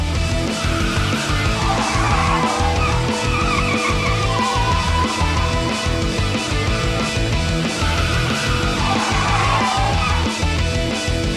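Porsche cars lapping the track at Motorsport Ranch in Cresson, Texas, during a Porsche Club driver education event: a loud, continuous engine roar with tire squeal, close and steady throughout, with no voices.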